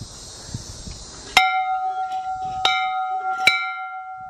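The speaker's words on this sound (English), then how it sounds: "I do wonder if I can ring this bell though." A bell rings three times in a video game's historic village, in even strikes, each clear tone ringing out and sustaining between hits, with a faint low rumble before the first.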